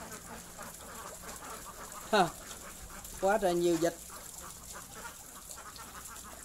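Ducks at a traditional countryside duck farm in rural Vietnam, a single quack followed by a short burst of several quacks over a quiet background hum, with a person speaking briefly.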